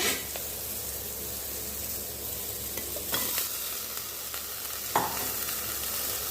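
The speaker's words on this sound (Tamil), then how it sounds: "இந்த மாதிரி தாளித்து வதக்கிட்டு" Okra tempered and sautéed in a pan for pachadi gives a close, continuous hissing sizzle, broken by occasional sharp stirring scrapes and clicks.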